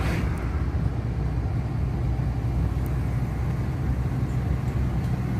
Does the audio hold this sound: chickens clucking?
no